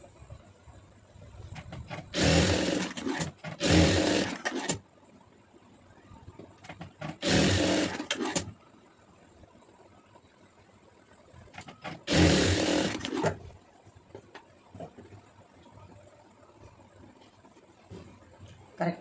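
Blouse fabric being sewn on a sewing machine, running in three separate bursts of a few seconds each, with quiet pauses between them and no one talking.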